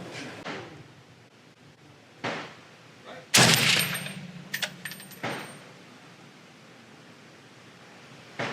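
A single loud, sharp gunshot from an FN SCAR 20s rifle outdoors, followed by a decaying rumble and a few smaller metallic clicks and clacks, with faint speech before it.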